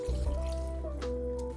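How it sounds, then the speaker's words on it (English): Four cups of water pour into a pot of sugar and lemon peels, a steady close trickle and gurgle with a rising tone as the pot fills, continuous and fairly soft, no voices. "We're gonna add in 4 cups of water."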